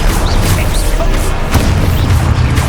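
Expulso explosion spell cast in Hogwarts Legacy: a loud, dense blast of booming, crashing noise within a busy magical combat soundscape, with a sharp impact near the middle and continuous rumbling throughout.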